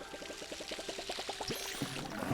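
Water poured onto a plant in a video game, a quick run of about a dozen evenly spaced bubbly glugs followed by a short trickle, quiet and heard alone.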